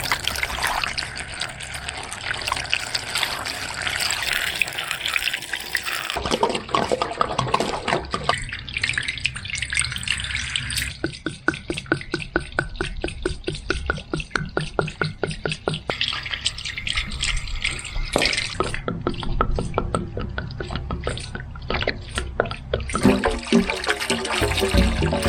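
Water poured from a container into concrete forms for a house slab, a steady gushing pour with rapid gurgling glugs and trickling that changes tone as the forms fill, with no talk over it.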